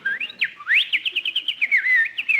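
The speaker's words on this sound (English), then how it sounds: "That sparrow must be building a nest." Sparrow chirping as a radio show sound effect: a quick run of bright, close whistled chirps and twitters, some sliding up in pitch, repeating in rapid rhythmic bursts, with no talk.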